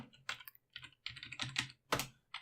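Quick bursts of keystrokes on a computer keyboard, clattering in uneven clusters with short pauses between, close and fairly quiet with no talking over them.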